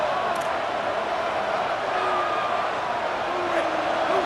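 A home stadium crowd roars during a third-down defensive stand in College Football 27, a broad, steady wash of noise held at an even level throughout.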